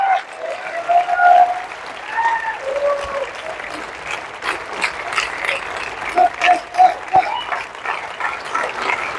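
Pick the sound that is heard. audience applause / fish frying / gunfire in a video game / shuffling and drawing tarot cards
audience applause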